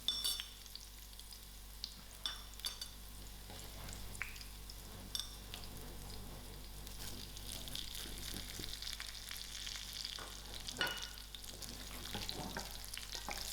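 Spices frying in a pan for tomato rice give a low, steady sizzle, with scattered light scrapes and clinks of stirring over about thirteen seconds, faint and without voices.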